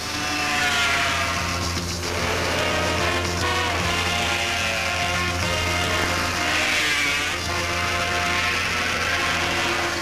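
Racing motorcycles roar at the Bol d'Or 24-hour endurance race on the Bugatti circuit, with Honda, Yamaha and Kawasaki machines among the field. A loud, steady wall of engine noise with wavering revs holds from start to finish, and no voices are heard.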